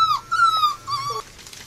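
German Shepherd puppies whimper close by in a series of thin, high, drawn-out whines, three or four short cries in quick succession, soft and alone.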